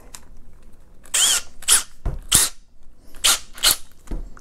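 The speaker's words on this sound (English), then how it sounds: "I'm gonna start with a little eighth inch bit, step it up a little bit, and then we'll go to the full size half inch bit." A power drill with an eighth-inch bit bores into a plastic rifle stock at slow speed, giving several short, whirring bursts with pauses between them, close and fairly loud.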